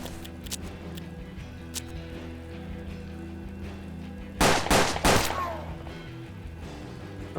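Gunfire in the turn-based western game Hard West, with a tight burst of three loud cracking shots in quick succession over a steady, low ambient game soundscape, no talk.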